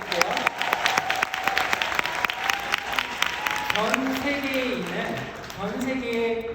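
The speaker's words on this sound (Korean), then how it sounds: "다시 한번 박수 한번 부탁드릴게요." Convention audience applauds at a company session in Korea, steady clapping filling the hall while a presenter talks over it with a sustained spoken voice.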